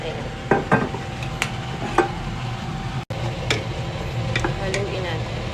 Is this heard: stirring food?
yes